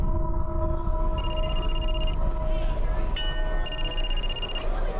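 A telephone rings in two bursts of steady electronic trilling over a loud low rumble that sounds like a train or vehicle, with a short pause between the rings.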